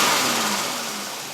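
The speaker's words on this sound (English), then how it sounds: "Let's do a snap test on the throttle." A 2000 Chevy Venture engine revs up sharply in a throttle snap test and then winds back down, fading over a brief moment.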